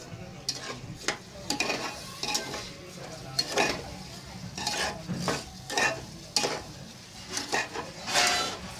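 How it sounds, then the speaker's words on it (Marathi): Rice being stirred into a cooking pan with a spoon, giving repeated scraping strokes and light clinks against the metal, close and fairly quiet, with no talking. "इकडे तांदूळ टाकले. मिक्स करून घेते सर्व."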